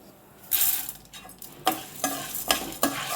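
Chana dal tumbles into a hot pan with fenugreek seeds for an ivy gourd curry, giving several sharp sizzling bursts and stirring scrapes in quick succession, close and fairly loud.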